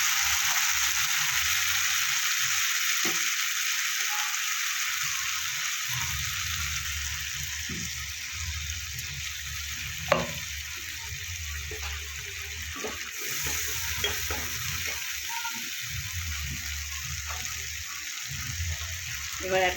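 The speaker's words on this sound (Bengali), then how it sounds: "এবার দেবো যে মশলাটা পেস্ট করে রেখেছি সেটা দিয়ে দেবো।" Ground spice paste fries in a pan for a vegetarian potato dum, giving a steady broad sizzle over a low rumble, with intermittent spoon knocks and scraping as it is stirred.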